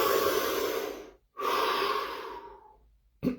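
A slow, deep breath drawn in and let out during a relaxation exercise, close and audible, ending in a brief sharp sniff.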